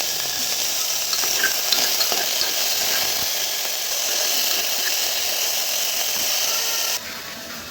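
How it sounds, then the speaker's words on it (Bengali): Cumin and vegetables frying in butter make a constant bright hiss and sizzle, with light stirring taps, before the sound abruptly drops quieter near the end. "ফোড়নে দিয়ে দিলাম একটুখানি জিরে। জিরেটা একটুখানি ভেজে নিয়ে দিয়ে দিলাম সমস্ত সবজিগুলো।"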